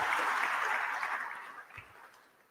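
An audience at a funeral service claps for the performers, a dense crackle of many hands that starts full and gradually thins and fades over a couple of seconds.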